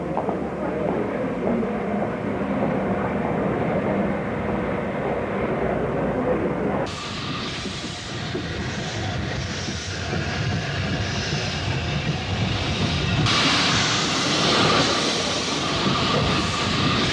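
A final special train on the Hayling Island branch line, run by the Locomotive Club of Great Britain, produces a continuous mid-distance rumble and drone that shifts in tone partway through, with faint background murmur.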